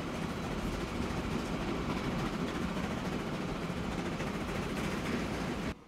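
A train in the game Transport Fever 2 rumbles along in a steady, broad wash of rolling noise that stays even throughout and stops abruptly at the end, with no talking.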